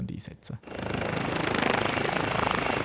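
A helicopter at Alpnach air base thrums steadily with a loud, close rotor chop after a brief moment of voice, its pulsing beat continuing without a break.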